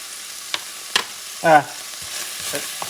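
Chopped onions fry in oil for an elk stew, a soft sizzle broken by several sharp scrapes and clatters of stirring, one louder knock in the middle.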